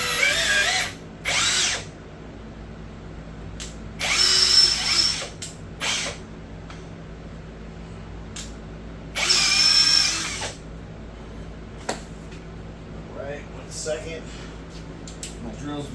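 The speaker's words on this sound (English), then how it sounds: "We're going to take our ream to the larger hole." Power tool reaming a larger hole in a HEMI crankshaft: several short bursts of high whirring, each a second or so long, close and loud, separated by quieter workshop pauses.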